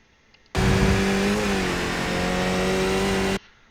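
A race car engine in iRacing's Skip Barber car at Oran Park roars loud and close as it works up through the gears, a sustained rising drone with a brief shift blip, then cut off abruptly.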